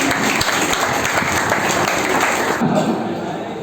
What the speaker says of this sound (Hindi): एक बार जोरदार ताली होनी चाहिए